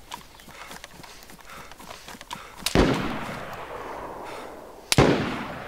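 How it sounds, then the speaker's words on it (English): Two sharp gunshots from DayZ, a military survival game, crack out near and loud about two seconds apart, each followed by a long echoing decay over a faint rustling background. "They're shooting at me."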